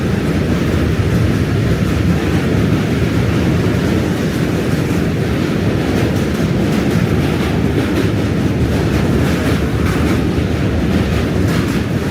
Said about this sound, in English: Ah, it's a double train.